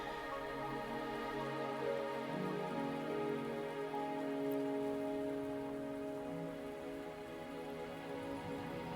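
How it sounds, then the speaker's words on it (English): Steady rain pours down in the video game Wuthering Waves, an even, continuous hiss of drops hitting surfaces, with a low tonal background underneath and no voices. "Don't worry, the rain won't last much longer."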